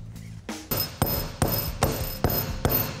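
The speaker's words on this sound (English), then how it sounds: "Then all we have to do is put the top C-clip in, like this, and then kind of hammer the other end on." Hammer blows knock a C-clip suspension part into place on a 1978 Datsun 280Z, six sharp metallic strikes at an even pace, close and loud with nothing else around them.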